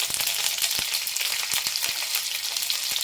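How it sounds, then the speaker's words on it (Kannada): Mustard seeds crackle and pop in hot oil as curry leaves and split green chillies fry, a dense close sizzle peppered with quick sharp spits. "ಸಾಸಿವೆ ಸ್ವಲ್ಪ ಚಿಟಪಟ ಅಂತ ಸೌಂಡ್ ಬರೋ ಟೈಮಲ್ಲಿ ನಾವು ಸ್ವಲ್ಪ ಕರಿಬೇವನ್ನ ಸೇರಿಸ್ಕೊಳ್ಳೋಣ"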